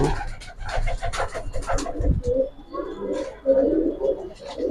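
Silver Giribaz pigeons kept on a rooftop coo in low, rolling calls at close range, with a few fluttery bursts and some background voices mixed in.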